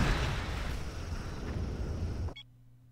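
A starship blows up in the Star Trek Legacy game, a loud sustained rumbling blast that roars for about two seconds and then cuts off abruptly into near silence.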